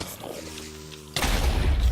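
A gunshot from a played video hits suddenly after a humming tone, with a loud, broad blast and a rumbling tail that fills the last second.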